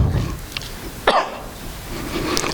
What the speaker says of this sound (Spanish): si en algún momento estoy tosiendo, le pido disculpas